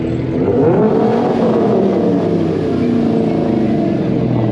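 A Pontiac GTO's engine rumbles and revs steadily at a street parade, a loud, continuous low throbbing with no break.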